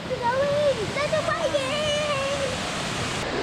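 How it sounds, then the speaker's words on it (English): Waterfall rushing as a steady broadband roar throughout, with people talking over it, including a voice and a high-pitched voice. "You wanted a waterfall, here it is."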